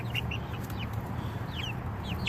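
Chickens clucking close by in a backyard flock, several short chirpy clucks scattered over a steady low ambient hum.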